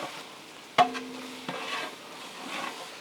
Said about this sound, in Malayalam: ഇനി ഇത് നന്നായിട്ട് ഇളക്കി അങ്ങോട്ട് സെറ്റാക്കി കൊടുക്കുക